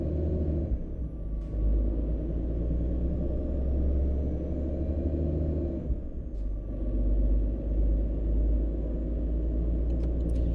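A Volvo VNL300 truck in American Truck Simulator rolls off the scales, a deep, steady diesel rumble with a brief air-brake hiss, surging loudness and a few faint beeps.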